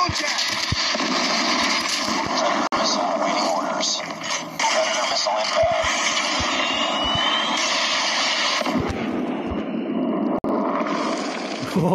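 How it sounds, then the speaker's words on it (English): Friendly drone flying overhead in Call of Duty Mobile, a continuous loud aircraft-engine roar filling the scene over game gunfire and radio-style chatter. "Friendly drone in the air."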